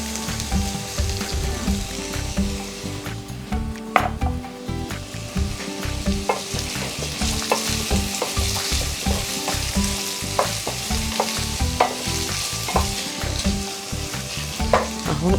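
Rice frying in oil in a pan, with a loud, continuous sizzle and steady scraping strokes of stirring throughout, no voices.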